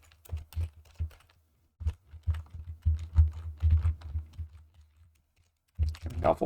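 Clicks from a computer keyboard come in irregular bursts during a programming session, with short pauses between the runs of keystrokes and a low hum underneath. The typing is quiet and fairly close.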